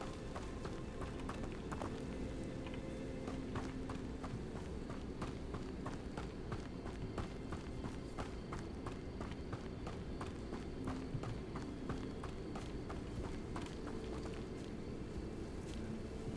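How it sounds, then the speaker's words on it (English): Leaping toadstool caps bound about in a Hogwarts video game, making a quick, continuous patter much like running footsteps, fairly faint and steady throughout, with no speech. "I heard what I thought was footsteps, but it's these leaping toadstool caps"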